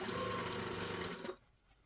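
A sewing machine stitches a trouser band. Its steady, fast mechanical whir runs for just over a second and then stops, leaving near silence.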